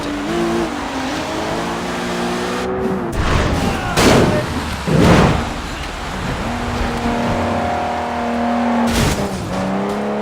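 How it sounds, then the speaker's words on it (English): A car hijacking and chase in the Sleeping Dogs video game: engines rev and drone, tires squeal, and heavy booms and crashes punch through a loud, continuous mix of game music and action. "So you can take over the car, knock out the driver"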